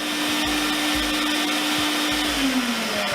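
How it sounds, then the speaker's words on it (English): A Sirena water-filter vacuum cleaner runs with its wand in the back to dry out the hose, a loud, steady motor whine and rushing airflow whose pitch dips near the end; no talking. "go ahead and put your wand into the back, and it's going to dry out the hose"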